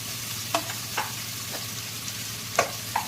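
Curry leaves and small shallots frying in hot oil for a spicy Tamil rice dish, giving a faint steady sizzle broken by about five short scraping stirs of a spoon in the pan, with no talking.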